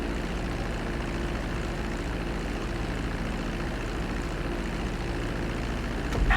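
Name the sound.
plane landing on runway in video game GTA V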